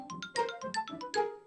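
Nintendo GameCube console startup jingle: a short string of bright, bouncy synth notes in quick succession, played alone and fairly clear.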